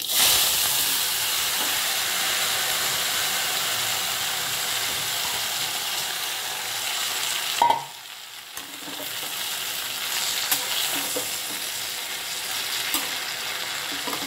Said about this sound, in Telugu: ఇప్పుడు ఇందులో కర్రీ లీవ్స్ కూడా వేస్తాను నేను.